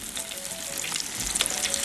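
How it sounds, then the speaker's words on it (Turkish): Meatballs fry in a pan with a steady, dense sizzle and crackle throughout, fairly close, with small pops and no talking. "Köftelerimizi kızartacağız."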